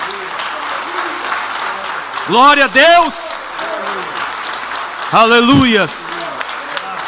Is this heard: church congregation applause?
yes